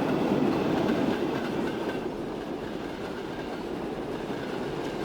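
A train rolls steadily along the rails in Transport Fever 2, a continuous mid-range rumble with faint clattering that stays fairly loud and even throughout, with no one speaking.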